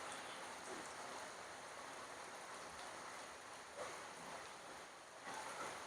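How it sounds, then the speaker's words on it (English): A heavy rainstorm over a flooded village in Pairagachi, West Bengal: a faint, steady wash of falling rain and running water, continuous and without talk. "this is a heavy rain in here."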